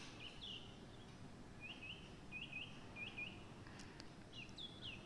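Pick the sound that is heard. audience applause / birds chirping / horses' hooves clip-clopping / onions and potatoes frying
birds chirping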